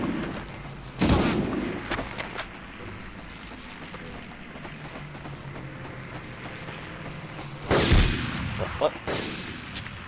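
Gunshots in the video game Medal of Honor: two sharp, loud blasts about seven seconds apart over a low ambient rumble, with a brief spoken voice in between.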